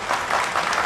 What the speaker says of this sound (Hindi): मैं चाहता हूं कि बन्ना गुप्ता जी के लिए, स्वास्थ्य मंत्री के लिए एक बार जोरदार ताली बजाएं